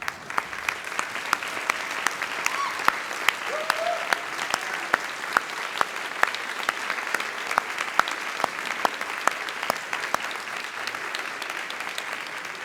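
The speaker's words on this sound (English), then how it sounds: "can I ask you to be upstanding and to applaud your audience" Graduates at a summer graduation ceremony in a large hall applauding their audience, dense sustained clapping from a big crowd at even loudness throughout, with a few sharper individual claps standing out.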